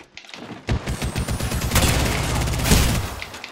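Devotion energy rifle from a first-person shooter video game firing a rapid, accelerating stream of shots, loud and close, mixed with other gunfire, under excited talking.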